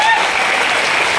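Brief, dense clapping from a group at a Vestige health supplement training session, applauding the leaders and Praveen sir, loud and close throughout.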